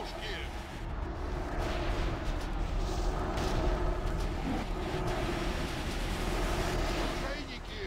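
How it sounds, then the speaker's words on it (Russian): Cannon fire from a ship battle in a video game raid rumbles continuously under wind-like noise and scattered booms, with voices talking over the fighting. "пусть заткнет эти пушки"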